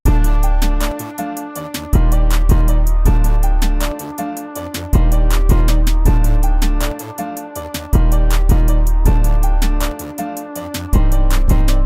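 Full trap beat remake plays loud and steady, with deep booming 808 bass hits, crisp rapid hi-hats and layered melodic chords looping in a driving rhythm, no talking.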